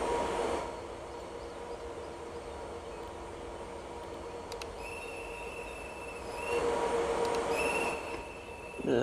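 A train rolls along in the Roblox game Trainware, a steady rumbling run with a high wheel squeal that fades in and out, with no talking over it.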